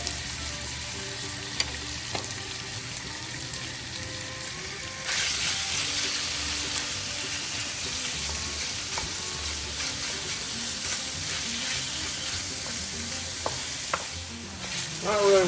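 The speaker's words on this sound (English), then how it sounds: "Not really looking to brown this meat. We're just kind of looking to seal it up a little bit" Chunks of meat and sausage searing in a hot pan for Cajun jerk alfredo, a loud, steady, close sizzle that swells noticeably partway through and keeps crackling evenly, with occasional faint utensil clicks and no voices.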